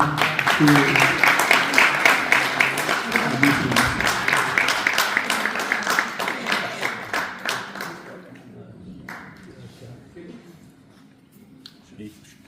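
An audience at an evening gathering honoring elders breaks into dense, sustained clapping for about eight seconds, which then thins out and trails off into quiet with a few faint sounds.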